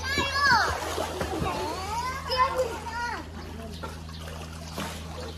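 Children's voices chatter and call out while a child jumps into a swimming pool and water splashes and trickles nearby, a lively poolside scene with talk throughout.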